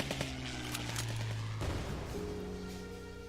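Strafing gunfire attack in the World War II card game KARDS: a burst of loud, rapid shots layered over sustained tones, dense for about a second and a half, then thinning into softer rattling.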